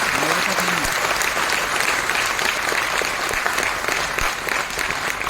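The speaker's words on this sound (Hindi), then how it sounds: "एक बार जोरदार तालियों" Loud, sustained applause from an audience at an RCM business event, dense clapping filling the whole stretch with a faint voice briefly audible early on.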